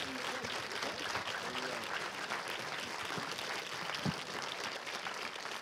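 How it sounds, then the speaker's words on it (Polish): Audience applause for nine-year-old Maja at a Polish presidential debate event, a steady broadband clatter of clapping lasting throughout, moderately loud and even, with a few voices mixed in. "Oklaski dla Mai"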